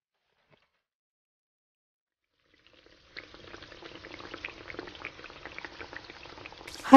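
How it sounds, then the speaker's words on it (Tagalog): Chicken and vegetable soup with lemongrass simmers in a pot, a soft bubbling that starts after a few seconds of silence and continues steadily, with a louder clatter at the very end. "Pakulaan lang natin hanggang sa maluto."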